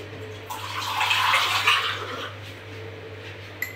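Water splashes and rushes steadily into a pan on a gas stove for a few seconds, over a low steady hum, then tapers off.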